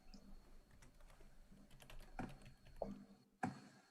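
Keyboard typing at a live forex trading stream: scattered soft keystroke clicks at a low level, with a few sharper, louder taps near the end and no talking.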